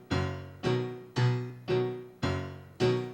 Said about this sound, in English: particular more traditional left-hand vamp, which sounds like this.